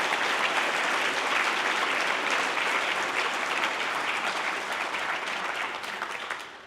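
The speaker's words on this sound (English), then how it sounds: "Please give us some applause to the 2024 scholars." Audience applause for the 2024 Ron Paul scholars at a talk, a dense, even wash of clapping from a crowd that holds steady and then starts to thin toward the end.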